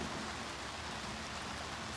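Steady rain falls outside a workshop during vintage truck camper restoration, a continuous dense hiss of drops pattering on surfaces, fairly loud and unbroken with no voices.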